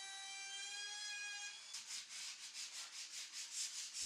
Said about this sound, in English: Just a light bit of sanding needed and then it's ready for primer and paint.